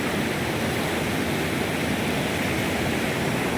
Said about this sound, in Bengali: প্রচুর, বাবারে প্রচুর জলের স্রোত।